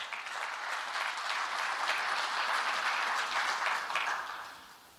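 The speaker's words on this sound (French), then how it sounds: "On peut les applaudir." An audience at a conference partnership signing on urban decarbonisation breaks into applause, a full even burst of many hands that holds for several seconds and then fades out at the end.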